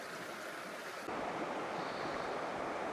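Steady rushing water of Horse Thief Creek in Idaho runs alone at a campsite bank, a continuous broadband wash that grows slightly louder partway through.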